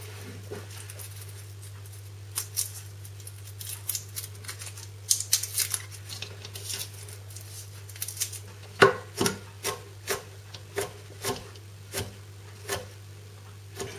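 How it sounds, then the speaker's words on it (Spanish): Garlic and onion being chopped with a knife on a board, a run of crisp knife taps, irregular at first then settling into a steady, evenly spaced rhythm, close and fairly quiet over a low steady hum, no talking. "Después vamos a picar el ajo y la cebolla"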